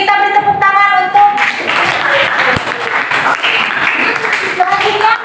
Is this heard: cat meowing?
no